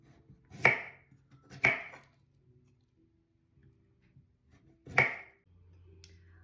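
Three sharp knife chops cut through banana squash on a cutting board, spaced unevenly and close by, while scooping out the inside, with quiet pauses between strikes.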